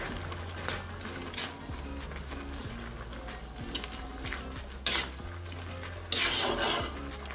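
A utensil scrapes and clinks against a pan while green beans and carrots are stirred during cooking, with scattered metallic knocks over a low steady hum and a brief burst of sizzling toward the end.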